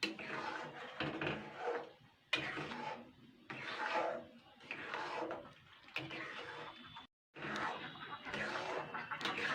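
A spatula repeatedly scrapes and stirs thick ripe mango pulp in a pan, giving a rhythmic rubbing and scraping sound with brief pauses between strokes.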